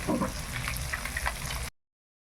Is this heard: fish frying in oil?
yes